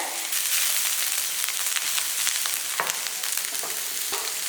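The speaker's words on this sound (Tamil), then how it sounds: "எல்லாம் வதங்கட்டும்" Ingredients for a coconut-tamarind thuvaiyal sauté in a pan, with a loud, steady crackling sizzle and sharp stirring clicks scattered throughout.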